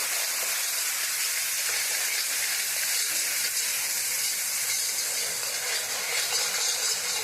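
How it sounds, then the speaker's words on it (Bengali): Cumin powder and spices sauté in a pan for prawn malai curry, giving a steady, even, close sizzling hiss that holds without a break and has no talk over it. "জিরে গুঁড়ো এখন কষিয়ে নেব ভালো করে"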